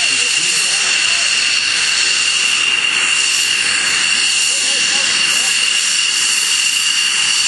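An F-16 Fighting Falcon fighter jet touches down at an air show, its engine a loud, steady high-pitched roar and hiss filling the whole stretch with no spoken voices.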